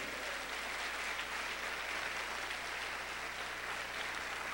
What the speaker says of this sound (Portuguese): Quem é salvo, dê uma linda salva de palmas a Jesus de Nazaré.